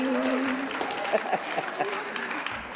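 An audience at a Women of Westchester conversation event claps briefly, a short burst of applause heard alongside a speaking voice.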